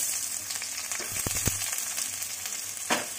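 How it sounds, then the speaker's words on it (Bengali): Chopped onion dropped into hot oil in a pan fries with a loud, continuous hissing sizzle, broken by a few quick clicks and a stirring scrape near the end. "এবার ওই তেলের মধ্যে দিয়ে দেবো পেঁয়াজ কুচি।"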